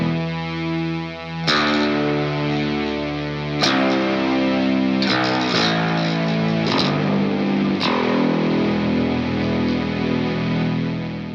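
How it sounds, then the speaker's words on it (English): An electric guitar played through a synthesizer pedal gives thick, buzzy, distorted synth-like notes, several sharply plucked attacks with sustained tones between them, close and loud with no talking. "Going through a synthesizer pedal."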